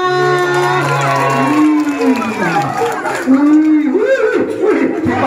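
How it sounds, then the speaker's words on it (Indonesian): A lively audience at a Balinese comedy show cheers and shouts with whoops and some clapping, while voices talk loudly over the noise. "Tepuk tangan"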